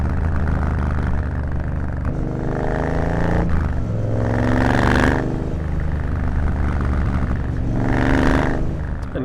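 A Triumph Bobber motorcycle with an X-pipe exhaust and pod filters revs loudly and repeatedly, engine pitch sweeping up and down through several downshifts, close and continuous, with no talking.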